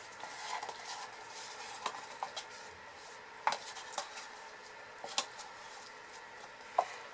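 Small whisk stirring white mica into goat milk soap batter, faint soft swishing with occasional light clinks against the container, quiet and close.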